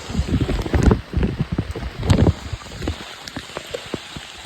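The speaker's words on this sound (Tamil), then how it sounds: "பெரும் காற்று வேற அதிகமாக வீசுது." Heavy rain patters and splashes close by while gusts of wind buffet the microphone in rough, uneven waves.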